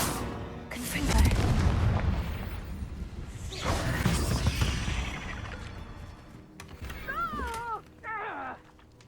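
Confringo fire blast spell from Hogwarts Legacy, heavy booming explosions rolling out in two loud bursts, followed by whooshing, warbling magical tones near the end.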